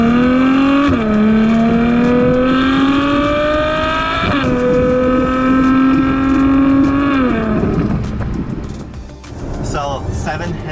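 A Ferrari F12 Berlinetta with 740 horsepower and a seven-speed dual-clutch gearbox, heard from on board, climbs through revs in loud rising pulls, dropping pitch sharply at each gear change, with talk briefly at the end.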